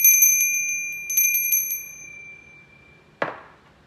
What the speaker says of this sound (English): This is my new Liberty Bell